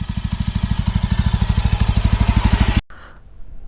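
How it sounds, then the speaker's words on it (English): Idling Yezdi Adventure motorcycle engine, a close, loud, steady rhythmic thumping pulse that cuts off abruptly near the end, leaving quiet background. "let's ride this beautiful, much awaited, the all new Yezdi Adventure"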